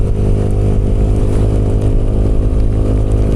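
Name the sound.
motorcycle being ridden on a slippery road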